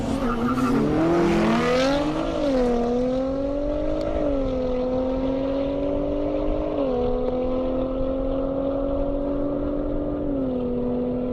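A drag racing car blasts down a half-mile airport strip at Indy Airstrip Attack, its engine howling loud and rising through gear changes before fading as it pulls away, with a steady roaring backdrop.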